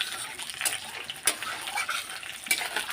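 Water poured into a pan where fish is frying for a fish curry, a hissing sizzle with a few sharp clinks of utensil against the pan, close and moderately loud with no voices.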